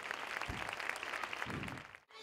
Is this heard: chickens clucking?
no